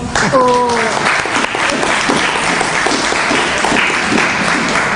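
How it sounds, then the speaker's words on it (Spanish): Audience applause fills the hall at the end of a Spanish-language lecture on Cardenismo, a dense steady roar of clapping lasting throughout, with a brief voice near the start. "¡Aplausos!"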